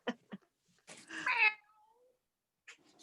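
People on a virtual musicale call imitate a cat, giving a few short vocal meows followed by a longer drawn-out mew, fairly close, with brief quiet gaps between.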